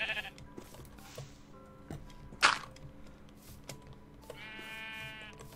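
A sheep in Minecraft gives a distinct bleat midway through, moderately close over quiet game background, with a few other brief game sounds around it.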